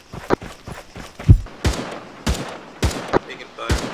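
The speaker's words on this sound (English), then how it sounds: "Taking fire." Scattered gunshots in Arma 3, several separate sharp cracks spaced about half a second to a second apart, some louder and closer than others, with no speech.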